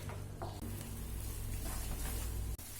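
Rava kesari being stirred in a pan with melting sugar, a steady soft scraping and bubbling with faint sizzle running throughout, close and continuous with no talk.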